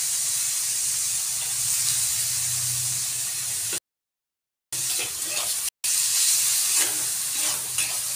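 Beetroot and soaked frozen green peas hiss and sizzle together in a hot pan, a steady, fairly close frying sound broken by a couple of short gaps, with stirring noises.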